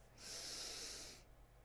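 A single slow, deep breath drawn in during a guided breathing exercise, a soft close airy hiss swelling and fading over about a second with no talking.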